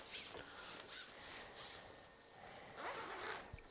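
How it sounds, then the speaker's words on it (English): A fabric case for a 5-in-1 photography reflector being zipped closed, several raspy zip strokes in sequence, quiet and close, with a last longer pull near the end. "Okay, and I zip this guy up."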